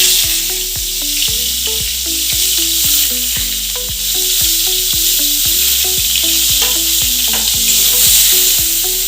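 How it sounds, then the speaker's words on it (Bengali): Chowmein noodles stir-fried in a home kitchen pan give a steady loud sizzle, cut by repeated rhythmic scrapes and tosses of the spatula, with no voices. "তারপরে চাউটা দিয়ে দেবো, চাউটা দেওয়ার পর ওগুলো আস্তে আস্তে অল্প অল্প করে দিয়ে নেড়ে নেবো"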